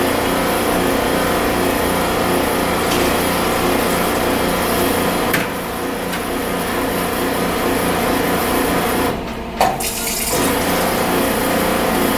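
Water rushes out of a Natura sparkling water machine in a steady, continuous hiss with a low pump hum beneath it, running without a break before briefly faltering near the end.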